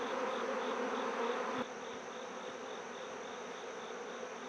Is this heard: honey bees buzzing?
yes